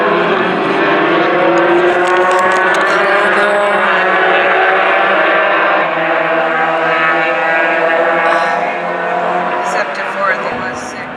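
Formula race car at Thunderhill coming over the hill through turn 6, a loud sustained engine drone with shifting pitch, heard from trackside and fading slightly near the end.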